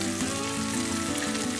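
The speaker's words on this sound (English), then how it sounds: "We're going to start frying off the pork now" Steady, close sizzling and crackling of pork medallions frying in oil and butter, continuous and fairly loud with no voices.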